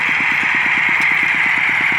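A homemade walking tractor built from scrap iron, a nine-horsepower engine, idles steadily with an even, rapid thumping pulse and a loud broadband mechanical hum, close and continuous with no talk.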